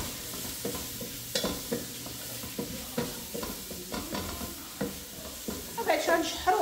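Onion frying in a pan, a close, steady crackling sizzle with repeated stirring scrapes and clicks running through it, moderately loud and without talk.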